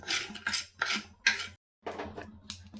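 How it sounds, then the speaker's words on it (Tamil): Mustard seeds heat in a hot pan while temple-style puliyodharai spice powder is made: rhythmic bursts of dry crackling and rasping, about two a second, close and fairly loud, with a brief silent pause. "கடுகு பொரியுது."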